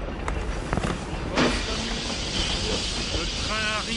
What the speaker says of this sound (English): Le train arrive en gare de Pozzoni.